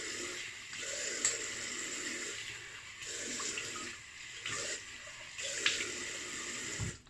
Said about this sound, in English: Cold water rinse off.